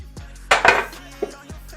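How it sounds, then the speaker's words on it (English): Dishes and a baking sheet clatter and clink in a home kitchen sink while being rinsed, a couple of short bursts of contact close by, with little clear sign of running water and no talk. "Let me rinse this off."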